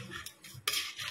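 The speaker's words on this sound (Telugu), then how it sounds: "మటన్ కాసేపు వేగాక రైస్ కూడా వేసి బాగా మిక్స్ చేసుకోవాలండి." Rice and mutton stirred together in a cooking pot for a mutton pulav, with a few scraping strokes of a utensil against the metal and a brighter, louder scrape near the end.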